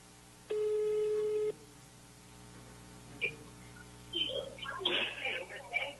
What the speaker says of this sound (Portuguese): Nós estamos ligando pro Luan aqui.